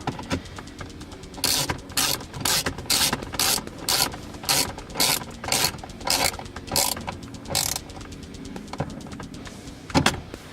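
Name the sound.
tightening Mazdaspeed3 Corksport shifter bushing bolts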